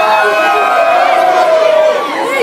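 Live concert crowd at a hip-hop show cheering and shouting continuously, a loud dense roar of voices filling the space while a performer's voice carries over the top.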